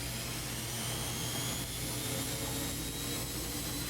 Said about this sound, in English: Your Tumble Action washer has a very unique sound to its spin cycle.